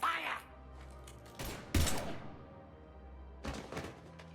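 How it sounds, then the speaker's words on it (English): Gunfire in Mass Effect 3, heard as a few loud broadband bursts breaking over a low ambient rumble, with a voice speaking in the background. "Now open fire!"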